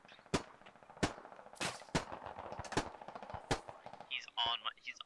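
Machine gun bursts in a first-person shooter where the player is a medic, several sharp rapid volleys of gunfire with short gaps, fairly close, mixed with game sounds.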